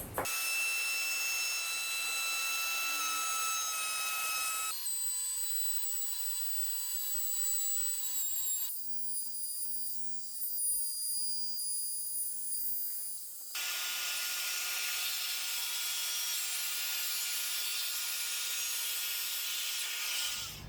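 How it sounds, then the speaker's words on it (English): A circular saw makes fine trimming passes on a wooden board, a loud sustained whine that stops and restarts in several distinct segments, close and alone without voices. "a couple of passes with a circular saw to get this first board into shape"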